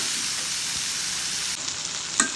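Thinly sliced okra fries in a pan with tomato and shrimp, a close, even sizzle with a brief clink of stirring near the end.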